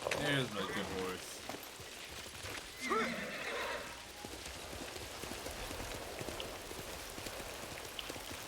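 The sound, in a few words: horse neighing and hooves clip-clopping in video game Ghost of Tsushima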